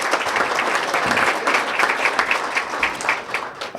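A room full of people at a chamber of commerce gathering in Elmhurst claps steadily for several seconds, a dense, close round of applause that tapers slightly at the end.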